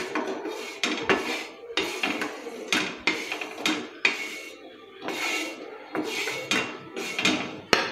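Roasted gram flour being scraped from a pan onto a plate, with dense, close metallic clatter and repeated ringing scrapes of a spoon against cookware in quick irregular bursts, no voices.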